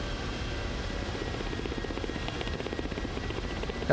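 A helicopter in a flight simulator game thrums with a steady rotor chop and engine drone, continuous and moderately loud, with no voices over it.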